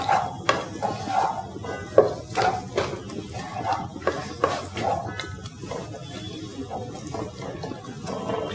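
Ginger garlic paste being stirred in a cooking pan, a spoon scraping and clinking against the metal in a steady irregular rhythm, close and moderately loud, with a few sharper knocks early on and quieter scraping toward the end.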